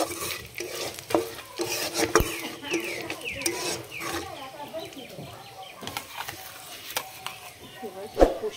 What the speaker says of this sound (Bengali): দারচিনি, জিরে আর একটা মশলা ফাটিয়ে দেবো